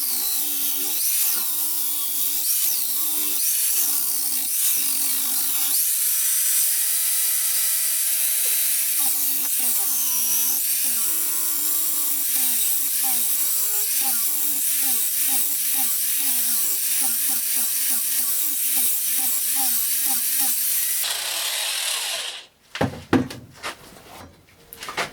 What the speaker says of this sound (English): the first thing I'm going to do is to take a chamfer along the edge of this